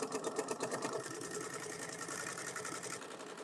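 A sewing machine runs steadily, top-stitching through thick layers of foam on a full-size top-handle tote. Its needle strokes form a fast, even mechanical chatter, close and fairly loud, with a slightly uneven start before it settles.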